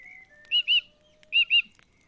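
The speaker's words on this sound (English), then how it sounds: "I like that bird." Two pairs of bright bird chirps from The Book of Unwritten Tales 2 video game, each a quick double tweet, clear and close against a faint background tone.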